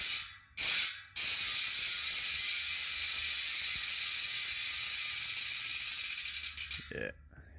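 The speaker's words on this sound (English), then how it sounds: "main feature of this wheel is this 120 point engagement hub." A Hunt trail bicycle wheel with a 120-point engagement hub spins freely, giving a loud, dense, high buzzing ratchet whir that holds steady after two short bursts, then slows into rapid clicks and stops.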